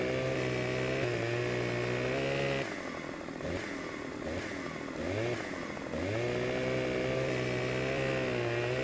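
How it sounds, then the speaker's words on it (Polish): A chainsaw in Farming Simulator 2015 runs loud and close, holding a steady buzzing drone, then revving and bogging in uneven surges as it cuts before settling back to a constant whine. "Sporo frajdy przynosi zabawa piłą mechaniczną."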